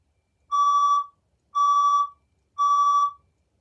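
A science room fire alarm sounds during a test, giving three identical loud electronic beeps about a second apart, each a steady tone with harmonics, clear and close with nothing else behind it.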